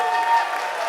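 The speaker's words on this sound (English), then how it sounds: "Can we have one more round of applause for all of our performers?" An audience at a summer music camp's closing concert of orchestras, choirs and bands applauds briefly and fairly loudly, with sustained musical tones ringing under the clapping.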